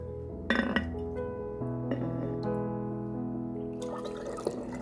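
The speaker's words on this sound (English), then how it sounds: "Let's bottle off the clear vinegar at the top to a disinfected bottle." Persimmon vinegar being poured into a disinfected glass bottle, with a ringing clink of glass, a steady trickling fill that rises in pitch, and a final bright clink, all close and without talk.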